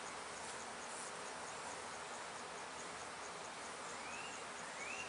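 A honey bee buzzing close by a beekeeper working an open hive, a faint, thin steady drone over quiet background hiss with no talk.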